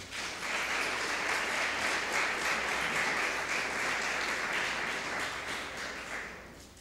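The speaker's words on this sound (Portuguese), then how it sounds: "Vamos aplaudir o nosso Senhor, por favor." A church congregation applauds in worship, a full, even roll of many hands clapping that swells in quickly, holds for several seconds and fades slightly at the end.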